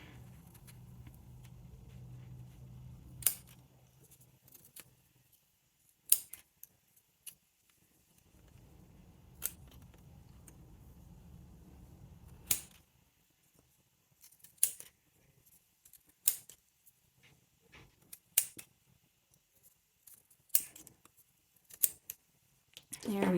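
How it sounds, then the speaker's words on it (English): Scissors snip apart yarn loops on an addiMoon pom pom maker, giving scattered sharp crisp cuts in irregular bursts, close and moderately loud, with stretches of low handling noise between them. "we are going to take our scissors"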